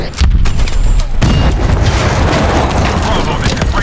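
A pressure explosion in Call of Duty: Advanced Warfare booms heavily and rumbles loudly, followed by sustained crackling debris and low roar, with a voice briefly audible amid the chaos.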